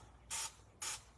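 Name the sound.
spraying product onto a dress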